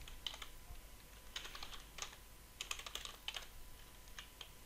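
Typing code on a computer keyboard, quiet clusters of rapid key clicks in short bursts with pauses, close and alone.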